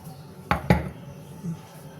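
Metal kitchen chimney filter parts are flipped over onto a sink with two quick, close clanks, then only faint background hum.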